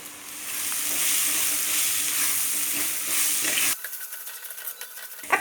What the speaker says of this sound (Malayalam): നമ്മുടെ മസാലക്കൂട്ടുകളൊക്കെ ഇട്ടിട്ട് ഒന്നുകൂടി വാട്ടിയെടുത്തിട്ടുണ്ട്